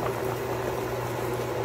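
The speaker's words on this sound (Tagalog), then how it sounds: "pakuluin lang muna natin ito" Chicken broth bubbling at a steady low boil in a pot with sotanghon noodles and celery going in, a continuous soft churning simmer with no talk over it.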